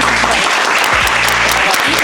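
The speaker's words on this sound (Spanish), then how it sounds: "Demos un aplauso." Loud, dense applause from an audience at a university panel discussion, sustained and even throughout with no talking over it.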